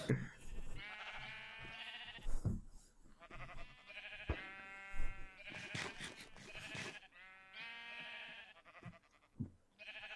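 Sheep in the Minecraft video game bleat repeatedly in a confined pen, several overlapping baas rising and falling close by, with a few soft voices talking in between.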